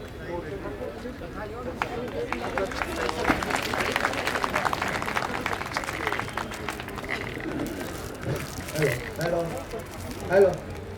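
An audience at a ceremony for an oath-taking event applauds a guest, a dense wash of clapping lasting several seconds that thins out toward the end, with a voice speaking over it.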